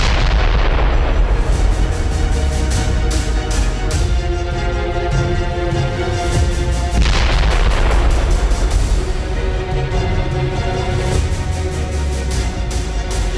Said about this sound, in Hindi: आईडीएफ के लड़ाकू विमानों ने दक्षिणी लेबनान के चिहिन में एक इमारत पर एयर स्ट्राइक की।